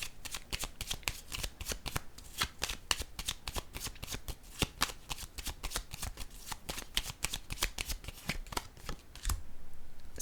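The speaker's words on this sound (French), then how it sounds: "je vais piger maintenant une carte pour ces deux-là" A deck of cards shuffled and drawn during a tarot-style card reading: rapid, close, crisp riffling snaps in a steady stream of sharp clicks for about nine seconds, ending in a soft rustle.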